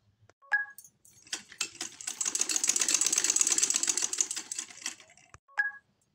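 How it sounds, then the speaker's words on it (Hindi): A sewing machine runs in one sustained burst of rapid stitching while a ladies' half collar is sewn, with a few faint clicks before and after. "ये हमने सिलाई लगा ली है"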